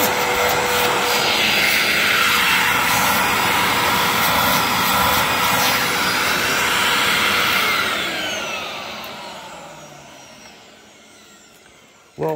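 A vacuum cleaner with a full bag runs with a loud, rough whooshing roar, sounding strained and odd, then slowly winds down and fades over the last few seconds before a brief click.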